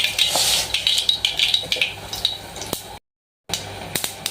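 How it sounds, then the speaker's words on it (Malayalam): Mustard seeds crackling in about two tablespoons of hot coconut oil, with bright, irregular pops and spits continuing throughout, broken by a brief gap of silence before the spluttering resumes. "നമ്മൾ രണ്ട് ടേബിൾ സ്പൂൺ വെളിച്ചെണ്ണ ഒഴിച്ചിട്ടുണ്ട് അതിലേക്ക് നമുക്ക് കുറച്ച് കടുക് ഇട്ട് കൊടുക്കാം"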